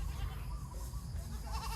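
A goat bleating on a farm, a drawn-out wavering bleat heard fairly close over steady background noise, with no talk.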